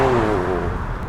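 A Volvo EX30, a 272-horsepower electric car, accelerates hard with a steady, loud drive hum and a rising whine that climbs in pitch over about a second of continuous sound.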